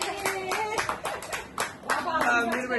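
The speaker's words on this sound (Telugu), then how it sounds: "Claps claps claps claps." Several people clap their hands at a wedding celebration, a run of quick, uneven claps close by, mixed with cheerful voices talking over them.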